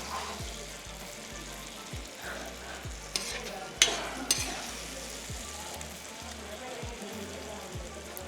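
Oil bubbling and sizzling in a pan while tomato thokku cooks, a soft steady fry with faint popping and a few brighter spatters near the middle, under a low recurring hum.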